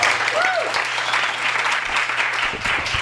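An audience at a bookstore reading applauds warmly, a dense, even patter of many hands clapping throughout, with a brief voice heard faintly near the start.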